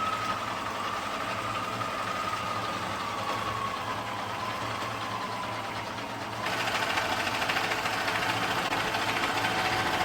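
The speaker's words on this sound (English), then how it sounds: "Time to get sewing." Electric sewing machine stitching fabric pieces together to make a homemade airbag cushion, a steady continuous mechanical whir running without a break and growing slightly louder near the end, with no talking.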